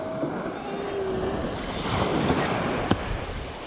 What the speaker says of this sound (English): That made a big old splash, Ola.